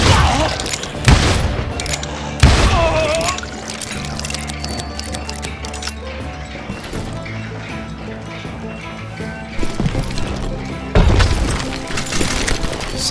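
An Old West gunfight in Call of Juarez Gunslinger: loud gunshots and heavy booms come in close bursts, with quieter crackling between volleys.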